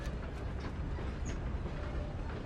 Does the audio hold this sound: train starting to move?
yes